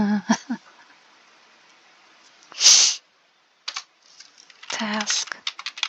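Rapid typing on a computer keyboard while setting up a Roblox game, coming in short clustered bursts of clicks, with a loud burst near the middle and a denser run toward the end; a voice speaks at the start.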